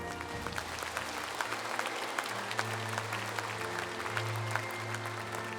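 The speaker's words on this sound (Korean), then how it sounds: "참석한 탈북민들에게 응원의 박수 부탁드립니다" An audience at a Korean diaspora world mission conference applauds the participating North Korean defectors, sustained dense clapping throughout with a low steady tone underneath.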